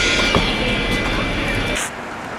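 Airliner landing at Abu Simbel airport in the Egyptian desert: a steady, loud cabin roar of jet engines with a whining tone, easing slightly near the end.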